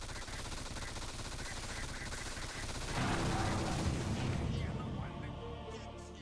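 Continuous gunfire and booming impacts fill a Dota 2 arcade battle map, a loud dense barrage that swells midway before easing slightly.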